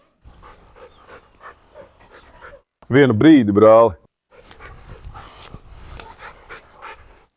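A Cane Corso and a Rottweiler named Alex pant in quick rhythmic huffs close by, broken by a loud second-long whining vocal burst, while someone speaks in Latvian.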